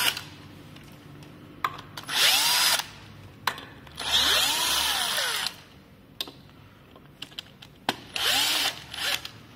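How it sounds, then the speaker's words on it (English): A cordless electric impact gun spins out the battery bolts on an electric scooter frame, giving three loud whirring bursts of a couple of seconds each, separated by quieter pauses with small clicks and handling noises. "You can use a 5mm Allen key or use a electric gun like this. The total 6 bolts."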